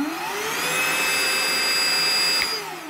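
A Parkside cordless vacuum cleaner runs close by with a steady, even whine and airy motor hum, loud and alone for a few seconds before easing off.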